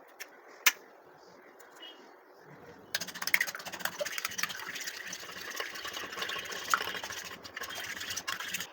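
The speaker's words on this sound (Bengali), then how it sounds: "এইবারে আমরা ডিম দুটোকে ফেটিয়ে নেব" Two eggs being beaten in a bowl while preparing an egg-stuffed pointed gourd dish, a steady rapid whisking and sloshing that starts after a quiet moment and continues busily to the end.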